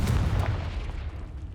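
Confringo blasting spell going off in Hogwarts Legacy during a fight with a giant spider: a single heavy, muffled boom that rolls and fades over a second or so.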